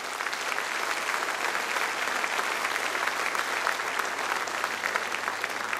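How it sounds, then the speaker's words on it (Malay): A large audience at an official annual report address by a national leader claps in steady, dense applause that fills the whole stretch without a break. "marilah kita memberi tepukan dan ucapan syabas kepada semua rakyat"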